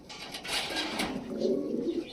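Pigeons coo softly nearby, low rolling calls that swell and fade with no talking.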